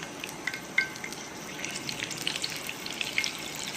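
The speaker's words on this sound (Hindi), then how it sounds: "ये देखिए मैंने ऑयल पहले से गर्म रखा हुआ था और इसको अब हम करेंगे फ्राई" Gola kabab frying in hot oil gives off a soft, steady sizzle with light crackles and pops, heard close and unbroken, with no voice over it.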